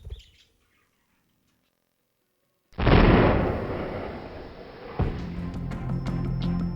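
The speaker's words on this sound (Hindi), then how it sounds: "अरे भाई ये धमाका कैसा है?" A sudden loud blast from an old building collapsing, after near silence. A dense roar follows it and fades into a rumble, and then a second, smaller impact sounds with rattling debris.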